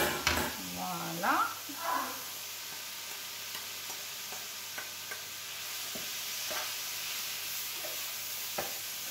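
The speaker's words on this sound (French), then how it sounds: "voilà mes petits légumes qui sont en train de revenir" Vegetables sautéing in a pan for a vegetable curry quiche, with a steady soft sizzle and occasional stirring clicks; a voice talks briefly near the start.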